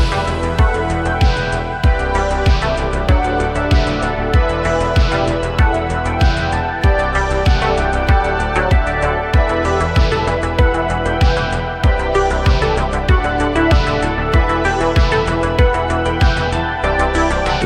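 A synthwave outrun track on the U-He Repro 5 plays loud and alone, with a punchy kick-and-snare groove under dense synth layers and a reverb-washed bell part ringing on top.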